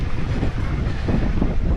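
Wind gusts buffet the microphone on a mountain trail near a horse trough at the Col de Lindus, a loud, rough, continuous rumble for the whole short stretch.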